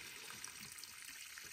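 Water drains steadily from a ram pump outdoors after a cold night near freezing: a soft, continuous trickle and hiss with no talk over it, faint and even from start to finish.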